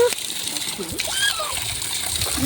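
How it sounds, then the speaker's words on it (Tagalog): Water overflowing from a reservoir splashes and pours steadily, loud and close, with faint voices in the background. "umaapaw na sa sobrang dami ng tubig"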